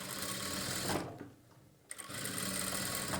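A sewing machine stitches a blouse lining in two steady runs of rapid needle chatter, broken by a near-silent pause of about a second in the middle.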